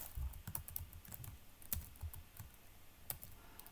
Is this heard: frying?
no